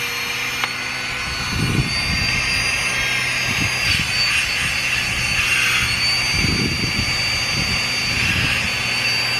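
A FlexTailGear Max Pump 2 Pro electric air pump runs steadily, a continuous high whirring hum from start to finish, with a few low muffled voices and handling noises under it.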